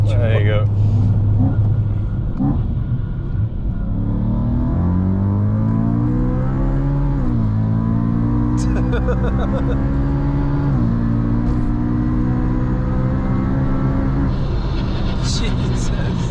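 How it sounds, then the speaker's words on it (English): A supercharged 666hp BMW M3 Touring engine revs loudly and close to 8700 rpm, its pitch climbing and falling in sustained pulls, with a person talking over the roar. "Up the revs, it pulls, it's savage."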